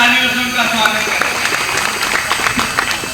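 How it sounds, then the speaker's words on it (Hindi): An audience at a Congress party gathering in Balaghat claps to welcome Arun Yadav, a fairly loud crowd applause with a dense patter of hands and a voice carrying over it. "मैं आप सबसे आग्रह करता हूं कि उनके लिए जरा जोरदार तालियों से उनका स्वागत करें"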